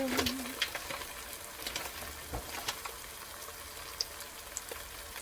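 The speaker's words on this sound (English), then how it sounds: "So I'm throwing in 1 pound ground beef" One pound of ground beef sizzles in a pan with a soft, steady crackle, scattered pops and light scraping now and then.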